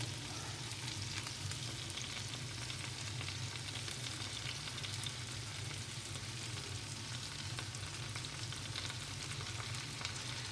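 Tomato paste sizzling in a pot for okra soup, a steady close frying hiss with faint scraping from constant stirring and no voices.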